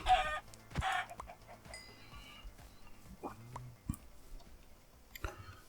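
Chickens clucking in Minecraft, several short, sparse clucks and squawks spread out with quiet gaps between them.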